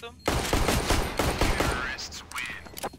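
Rapid automatic gunfire rattles loudly in Counter-Strike: Global Offensive, a dense burst of shots followed by quieter effects, with players talking over it.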